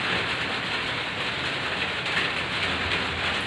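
Steady rain falls outside a house under construction where a kitchen wall of lightweight aerated bricks is being plastered, a dense, continuous hiss with no gaps and no voices over it.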